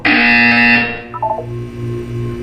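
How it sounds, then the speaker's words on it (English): A loud harsh electronic buzzer in the video game Portal 2 blares for about a second, then cuts off into a few quick descending tones over a low background hum. "When you hear the buzzer, look down at the floor."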